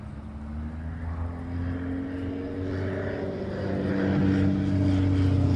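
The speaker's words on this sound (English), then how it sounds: "Airplane." Propeller airplane flying overhead above a beehive outdoors, a steady droning engine hum with shifting pitch that grows louder toward the end, with no talking over it.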